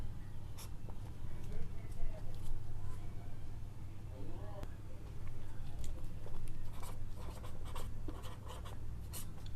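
Scratchy, irregular strokes of writing on a board during a Hindi-language maths lesson on finding the LCM by the division method, repeated in short bursts over steady low room hum.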